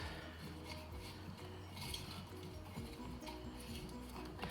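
Potting mix with coconut husk being stirred by hand in a plant pot during repotting, a steady close-up scratchy rustle with light clinks over a constant low hum, no voices.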